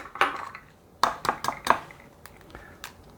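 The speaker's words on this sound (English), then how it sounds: "Now, to that, I'm going to add 2 eggs." Sharp clinks of eggshells cracking against a mixing bowl and eggs dropping in while baking a fruit cocktail cake, several crisp close taps in two small bursts with quiet gaps between.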